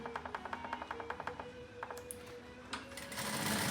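An industrial sewing machine with a lockstitch head and control box stitches in a rapid, even run of clicks, then the motor rises into a fast, loud continuous whirr when driven at full speed.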